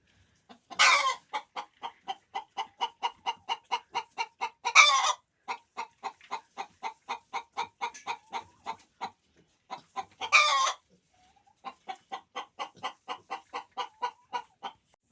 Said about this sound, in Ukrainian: наші кури та індики всі в сар'ї, всі сидять